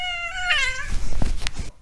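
A pet cat lets out one drawn-out meow, close and fairly loud, trailing into a brief rustle before stopping abruptly.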